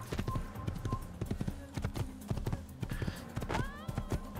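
Horse hooves clip-clop in a steady, close walking rhythm in the video game Assassin's Creed, with a brief whinny and someone talking over parts of it.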